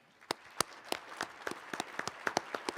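Sparse, distinct handclaps from a small audience at a community awards ceremony, individual claps ringing out irregularly and picking up slightly in density, fairly faint in a quiet room.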